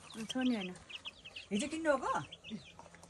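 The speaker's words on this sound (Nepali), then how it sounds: "ए कुखुरा रहेछ त" Chickens in a village near Pokhara, Kaski, clucking in a few short bursts of rising and falling calls, fairly close and moderately loud, with quieter background sounds between the calls.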